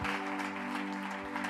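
A church congregation applauds during a celebration service, a short burst of clapping over sustained music with a held organ-like tone beneath it.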